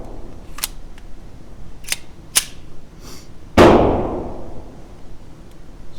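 A Sig P322 pistol firing, one loud sharp shot with a ringing decay, preceded by several fainter clicks and taps.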